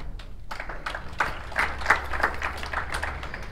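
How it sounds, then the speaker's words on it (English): Applause at a lawn bowls match, a World Under 25 Singles Qualifier final, with a modest crowd clapping steadily at a distance for a few seconds and no one speaking. "Round of applause"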